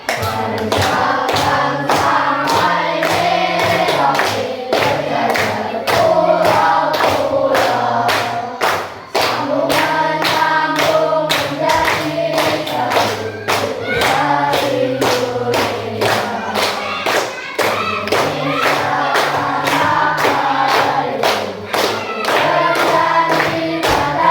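A school class sings an Indonesian song together while clapping hands in a steady, loud beat, sharp regular claps running under the group voices for the whole stretch.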